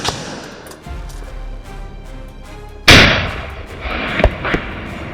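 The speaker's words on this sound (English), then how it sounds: "Several gunshots rang out in quick succession." Sharp cracks of gunfire ring out outdoors in Texas while shooting at wild boars, one loud close shot followed by several quicker bangs.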